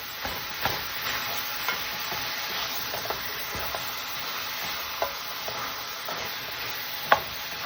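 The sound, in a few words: ground beef frying with garlic and being stirred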